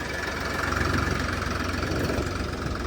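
A Ford 3600 tractor engine idles steadily, a continuous low rumble with a rough, knocking throb that stays at an even level throughout.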